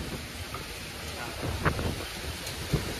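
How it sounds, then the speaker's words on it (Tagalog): Steady gusting wind by the sea in Pasacao, Philippines, roars across the microphone, with a couple of louder buffeting bursts over a constant broadband rush. "Sobrang lakas ngayon ng hangin dito sa tabing dagat"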